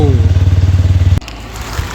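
A motorcycle engine close by throbs in a fast, even idle-like pulse before abruptly dropping away after about a second, with a voice speaking over it.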